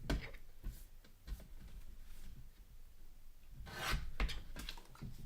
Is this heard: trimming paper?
yes